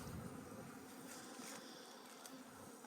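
Honey bees swarm around an opened hive, their dense, steady buzzing filling the air from start to finish at close range, with no voices.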